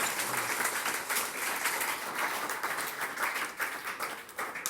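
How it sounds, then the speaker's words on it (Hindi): An audience at a school ceremony for top CBSE results claps loudly and continuously for a student, a dense, sustained round of applause with no one speaking. "तो मैं चाहूंगा कि एक बार जोरदार ताली आप बजाएं"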